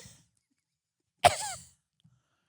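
A man imitates a small, dry cough, one short throaty burst in near silence with faint breath before and after.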